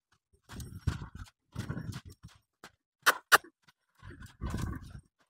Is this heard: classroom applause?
no